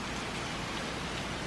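Rain falls outside an open window at an inn in Gramado. It makes a dense, constant, close hiss with no break.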